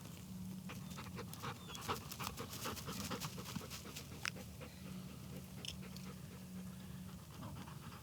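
A waterfowl retriever dog pants steadily and close by in quick rhythmic breaths for the whole stretch, with faint patter and clicks mixed in and no talking.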